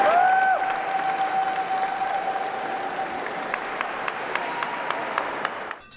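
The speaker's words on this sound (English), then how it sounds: "Honor Flight 38 received a resounding round of applause" Resounding applause from a crowd greeting Honor Flight veterans at the top of the Lincoln Memorial, dense sustained clapping with a few sharper nearby claps and a faint tone, fading out at the end.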